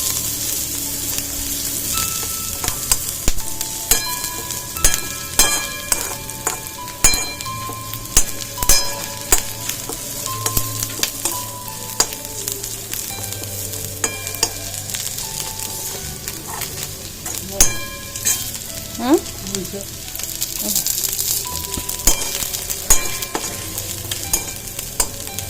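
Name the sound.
onion frying in oil for pabda fish curry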